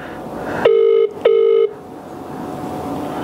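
Two long electronic phone tones sound on speakerphone as a call is placed, each steady and loud, separated by a short gap, then low room noise.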